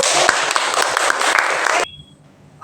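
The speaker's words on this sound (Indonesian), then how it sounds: "Oke Habib, terima kasih untuk Habib, beri tepuk tangan dulu." A classroom audience of students claps for a classmate after a teaching-skills practice lesson, a dense burst of steady applause that stops abruptly about two-thirds through, leaving near silence.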